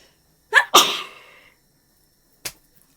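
A single close, loud human sneeze begins with a sharp intake of breath and bursts into a forceful exhale that trails off. A brief soft tap follows after a pause in an otherwise quiet room.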